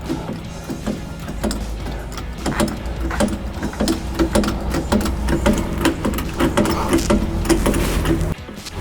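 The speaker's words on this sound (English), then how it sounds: "you'll jack up your van just like you would with any other hydraulic jack" A 4-ton hydraulic jack raising a camper trailer, a steady mechanical whir with rhythmic ratcheting pulses running continuously at close range, with no one talking.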